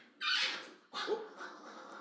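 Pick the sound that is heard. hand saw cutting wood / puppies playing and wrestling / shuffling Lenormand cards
puppies playing and wrestling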